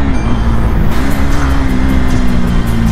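A 390 motorcycle engine drones loudly and steadily up close, holding an even pitch throughout.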